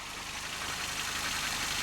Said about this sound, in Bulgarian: Сега може да чуете как работи двигателя